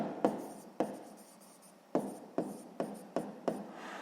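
Pen or chalk strokes on a writing surface during a sixth-grade math lesson, a series of about seven short scratchy bursts in irregular rhythm, close and fairly quiet, with no talking.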